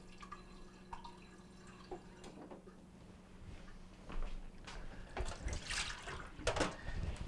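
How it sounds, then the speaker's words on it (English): Quiet drips and clinks give way to a steady stream of water pouring from a Kenmore refrigerator dispenser into a glass, growing louder toward the end. "Take your glass and get some water back out."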